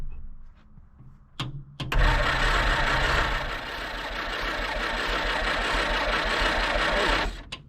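Abandoned 1946 Jeep Willys CJ-2A, sitting for years, cranks after a couple of short clicks, then the starter churns loud and steady for about five seconds before cutting off.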